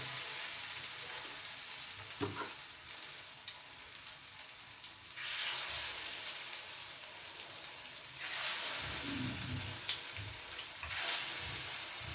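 Soya chunks frying in a pan give a steady, close sizzle that swells louder twice, with occasional clicks and scrapes of stirring and no voices.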